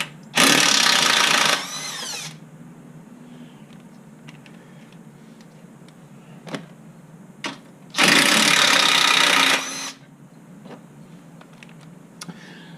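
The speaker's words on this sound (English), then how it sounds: "So I'm going to start with the back, taking them out with an impact." Impact driver loosening the rear skid plate bolts under a Honda Odyssey, two loud close bursts of whirring and hammering each lasting about two seconds, separated by quieter clicks and handling noises.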